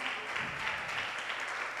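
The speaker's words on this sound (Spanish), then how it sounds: "Denle un aplauso al Señor" A church congregation giving applause during a sermon, an even, continuous patter of many hands at moderate distance and fairly faint, with a hint of voice beneath.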